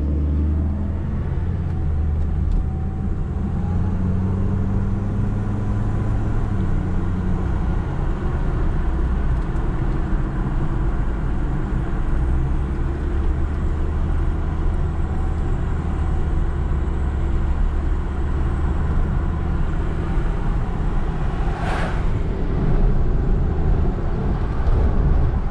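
A yellow car rolls along a dirt road with the windows down, giving a loud, constant low engine and road rumble with wind noise throughout.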